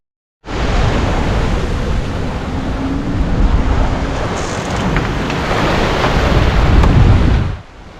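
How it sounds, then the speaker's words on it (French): Wind rushes steadily across the microphone while water sloshes and laps against a sailboat hull, a constant loud wash lasting several seconds before cutting off. "J'aime le bruit du vent, j'aime le bruit de l'eau qui joue avec la coque"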